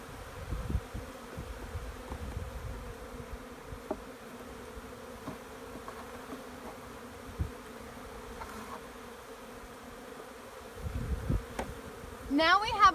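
Honey bees drone steadily around an open hive frame during inspection, a continuous low buzz with occasional louder passes of individual bees close by.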